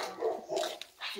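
A Rottweiler barking in short gruff bursts close by, two or three rough barks with brief gaps, nearly alone with little else around.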